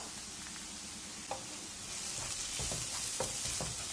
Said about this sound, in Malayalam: നമുക്ക് ഈ സോട്ടായ ഓണിയൻസിലേക്ക് മല്ലിപ്പൊടി ചേർക്കാം.